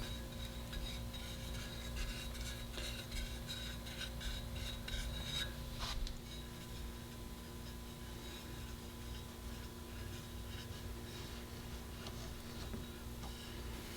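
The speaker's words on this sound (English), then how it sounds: "You can also use a smaller offset spatula to smooth out the sides." A small offset spatula scrapes and smooths whipped cream frosting along the sides of a strawberry vanilla chiffon cake: a steady, soft rasping rub that continues without pause, with one brief sharper scrape partway through.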